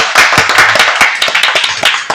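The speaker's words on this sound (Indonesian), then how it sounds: "Tepuk tangan." A small group of people claps in quick, uneven, close-up claps for about two seconds, with no talk over it.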